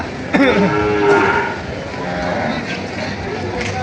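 Water buffalo (carabao) bulls low in a livestock market herd of more than sixty, deep bellowing calls close by over a busy crowd murmur with people talking.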